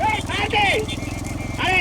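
Bulls racing with a bullock cart, a rapid rhythmic clatter of hooves and wheels passing close, under loud excited shouting and announcing voices.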